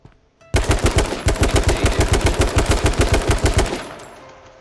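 An AR-15 rifle in the video game H1Z1 fires a long, rapid automatic burst of about thirty evenly spaced loud shots, then stops and leaves a short fading tail.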